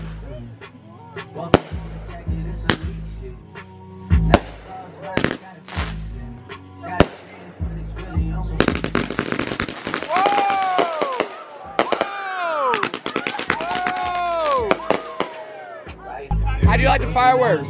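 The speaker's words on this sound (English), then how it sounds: "How do you like the fireworks?" Fourth of July backyard fireworks going off close by: a series of sharp single bangs, then a dense crackling burst with whistling and screaming rockets, with people talking and exclaiming throughout.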